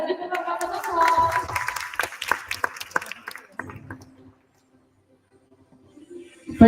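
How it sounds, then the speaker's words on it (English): An audience at a public speaking competition applauds, a burst of dense clapping that fades out after a few seconds into near silence, with a voice over the start. "Sir Stephen, let's give him a round of applause."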